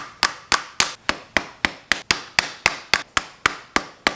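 A new rear main seal is tapped into a Porsche 944 through an old seal, giving fifteen sharp, evenly spaced hammer knocks in a quick steady rhythm, close and crisp, with no talk.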